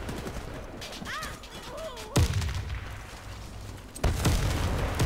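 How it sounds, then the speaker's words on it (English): A dropped bomb explodes in a combat setting, with a sharp, loud blast at about two seconds and a second heavy boom near four seconds, each followed by rumbling, amid ongoing gunfire-like noise. "Bomb drop."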